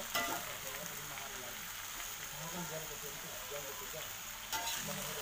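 Close, continuous sizzling and crackling of tempeh frying in hot oil, with a couple of brief clinks.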